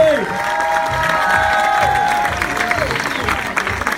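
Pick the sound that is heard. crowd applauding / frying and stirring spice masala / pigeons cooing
crowd applauding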